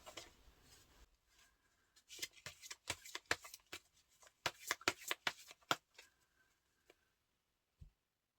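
Tarot cards being shuffled and drawn, a dense run of crisp riffling snaps and slaps in bursts, close and fairly quiet, thinning out into a few isolated card taps with no talking.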